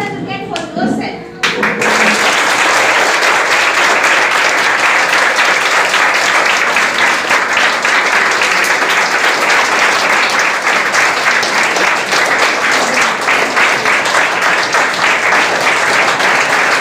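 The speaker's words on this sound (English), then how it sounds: "I think we should all stand up together now and clap for ourselves." A large audience at a talk rises and claps for itself. After a brief quieter start, loud, dense applause swells and holds steady to the end.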